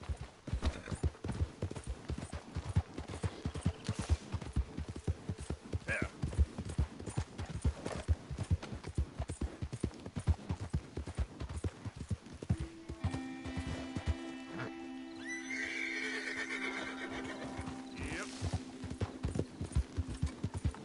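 Horse hooves pounding in rapid steady galloping rhythm in the video game Red Dead Redemption 2, continuous and fairly loud, with a sustained tonal game sound joining toward the end.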